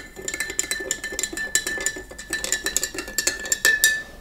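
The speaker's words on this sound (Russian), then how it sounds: "Я беру ледяную воду, размешиваю, перемешиваю соль." A utensil stirs salt into ice water for homemade German potato sausage, making quick, uneven clinks and taps against the container that repeat steadily throughout without any talking.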